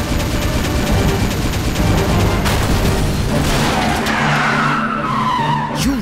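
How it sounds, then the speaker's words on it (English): A cartoon Blue Pulse Gun fires during a car race battle, giving a dense, loud burst of blasting and screeching. A sweeping whoosh trails off near the end. "Blue Pulse Gun, fire!"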